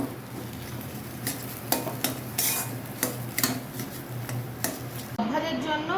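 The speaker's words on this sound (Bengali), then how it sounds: "হ্যাঁ ভালো করে মিশ্রণটাকে মাখিয়ে নিচ্ছি" Hands mix a mashed potato chop mixture in a bowl in a village kitchen, giving soft squelching stirs and light clinks of the bowl in a steady rhythm, with a voice cutting in near the end.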